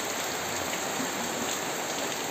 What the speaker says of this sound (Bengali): দেখো বাইরে আজকে কেমন বৃষ্টি হচ্ছে